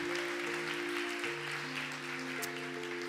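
Applause from a church congregation during a sermon, a steady spread of clapping held over sustained organ or keyboard chords, fairly even in level throughout.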